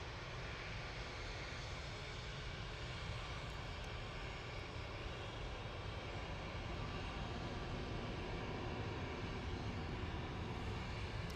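Boeing 787-8 arriving at Manchester Airport, a steady, broad jet engine roar that stays loud and continuous throughout, with no voices.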